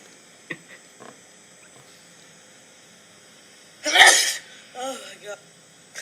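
A single loud, explosive human sneeze bursts out close to the microphone after a quiet stretch with a few small breathy sounds, followed by short voiced sounds.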